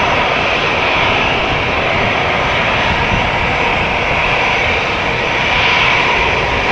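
An Air France A321 airliner's engines roar loud and steady at Amsterdam Schiphol Airport, a dense continuous broadband rumble and whine that holds without a break throughout.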